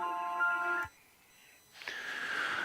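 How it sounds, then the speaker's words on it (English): A phone ringtone plays as a steady tonal chime, cuts out into near silence, then returns with a brighter ringing tone, with no talk over it. "Phone's ringing."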